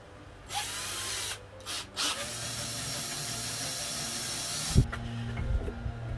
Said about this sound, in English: So I'm going to start drilling these in, and once it marks the van where it's going in, then I will drill a pilot hole.